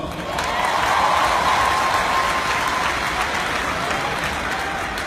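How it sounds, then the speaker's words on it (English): A large crowd applauds at a business event, a sustained, dense roar of clapping with a touch of cheering, loud and even from start to finish. "So please give all yourselves a round of applause."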